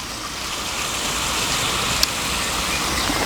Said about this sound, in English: I can just about sort of make out the waterfall.